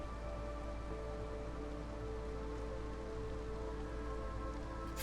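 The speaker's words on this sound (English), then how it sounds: "Four-minute storms, dude." A steady rainstorm in the video game Against the Storm, a dense unbroken hiss of rain on surfaces that stays loud and even throughout with no voices.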